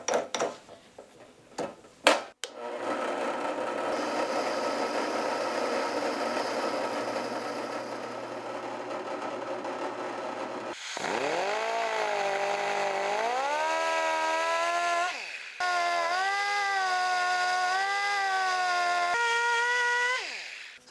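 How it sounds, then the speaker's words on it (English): A 3/4 inch sanding drum on a die grinder hollows out a wooden J-plug trolling lure, giving a loud, continuous high whine that shifts pitch as the tool loads and unloads, with short pauses and brief clatter at the start. "the next step is to hollow this out, and I'll use this 3/4 inch sanding drum"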